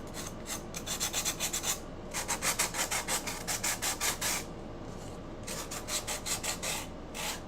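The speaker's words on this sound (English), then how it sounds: "I should have waited to sand the edges, I guess." Edges of a wooden Halloween cutout are sanded by hand in quick, even back-and-forth rasping strokes that come in rhythmic runs with brief pauses, close and moderately loud.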